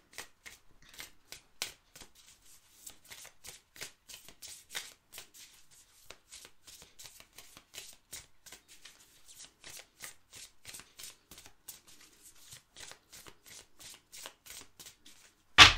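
An oracle card deck is shuffled repeatedly, giving quick papery riffles and flicks in an irregular rhythm, close and fairly quiet, with a louder snap at the end.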